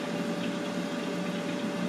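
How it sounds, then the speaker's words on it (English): Oil sputtering and sizzling inside a Philips air fryer while chicken cooks, a continuous loud hissing, bubbling texture with a steady tonal hum from the running fan, no voices. "I can hear the sputtering of the oil."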